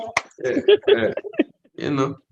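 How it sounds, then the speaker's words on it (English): A single sharp finger snap sounds at the start, then someone talks in a close, quiet room. "I'm gonna snap my fingers back at you on that one right there"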